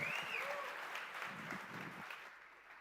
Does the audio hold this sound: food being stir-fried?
no